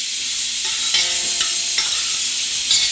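Garlic sizzling in a pot while cook up rice is being prepared, a steady loud frying hiss with a few brief scrapes and clinks of stirring over it.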